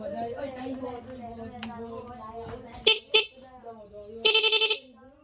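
Several short horn blasts from a motorcycle rapid horn sound over ongoing talk: two quick beeps, then a longer buzzing honk made of rapid pulses.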